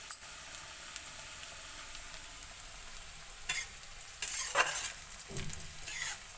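Moong dal frying in a pan for a thota kura fry, a soft steady sizzle under a few louder scraping stirs near the end, quiet and without talk.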